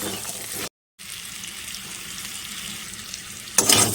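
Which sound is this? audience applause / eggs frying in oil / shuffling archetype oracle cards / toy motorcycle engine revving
eggs frying in oil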